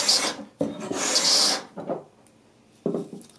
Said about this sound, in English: So I'm going to start with a scraper, a Veritas scraper.